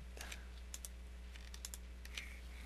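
Soft keyboard and mouse clicks tapping out in scattered bursts, a few sharper presses standing out against a steady low electrical hum, close and fairly quiet with no voices.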